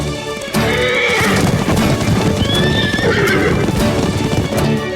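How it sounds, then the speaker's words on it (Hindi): Several horses gallop with rapid clip-clop hoofbeats and loud neighs and whinnies, close and continuous, with no talk over them. "वो लोग हमारे घोड़े ले जा रहे हैं।"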